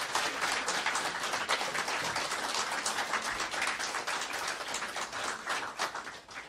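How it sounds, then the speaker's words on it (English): Sustained applause from a congregation at a divine service during a rally weekend, dense rain-like clapping at an even level throughout, with no talk over it. "I think our guests need a round of applause for what they've done"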